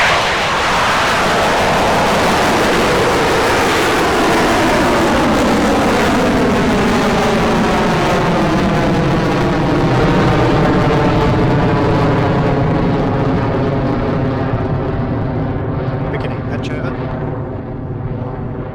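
Electron rocket engine roaring at liftoff during a launch, a loud, sustained broadband rumble that holds steady for the whole stretch with a wavering, slowly shifting tone as the vehicle climbs away.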